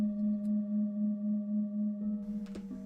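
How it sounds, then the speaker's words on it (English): A steady high sound-therapy tone hums softly and continuously with a gentle pulsing swell, joined near the end by faint background clatter. "The higher tones touch and stimulate the resonance of the upper parts of the body."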